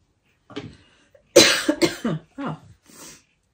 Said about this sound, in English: That cough is going to be the death of me, maybe.